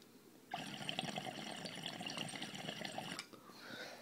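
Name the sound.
water being poured into a bong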